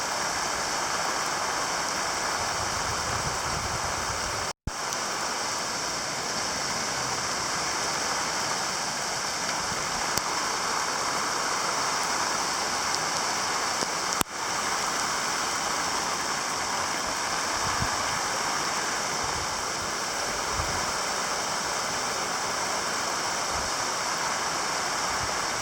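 Heavy rain pours down during a strong September storm with high winds, a dense, constant roar of water, close and loud, continuing without letup apart from a couple of brief clicks.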